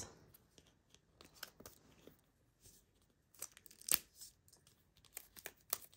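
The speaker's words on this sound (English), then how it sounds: "This is some sturdy plastic wrap" Sturdy plastic wrap packaging from a Dollar Tree junk journal haul is torn and crinkled open up close, in short scattered rips and rustles with a few sharper crackles and no talk.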